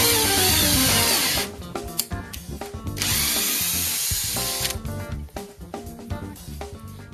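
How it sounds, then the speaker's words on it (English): Power drill driving screws into pre-drilled holes while installing a barn door, with loud continuous motor whine in long bursts, several short stops and restarts, and the screws run in and backed out again. "After you pre-drill the holes, run the screws in and back out again."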